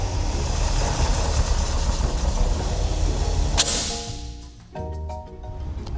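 Engine of a '70 Chevy Camaro L78 running while its ignition timing is set: a loud, rough, rumbling idle throughout, broken by a sharp snap, after which the engine settles to a smoother hum with a few faint clicks.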